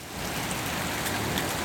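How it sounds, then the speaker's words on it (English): A heavy downpour roars as a dense, steady hiss of rain, loud and unbroken throughout, with no voices. "What a downpour, though"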